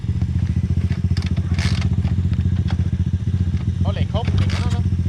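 A pit bike's small engine runs with a steady, loud, rapid putter close by, sputtering as it is started, while people talk over it.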